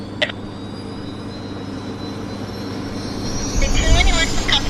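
Turboprop aircraft engines at Vancouver airport, likely a Central Mountain Dash 8, spinning up as a steady roar that swells louder in the final second, heard over a constant low rumble with a brief voice near the start.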